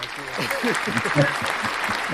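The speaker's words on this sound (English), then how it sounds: "let's get scattered applause." Scattered applause from a small group on a talk show with a band, a steady wash of claps with voices talking over it throughout.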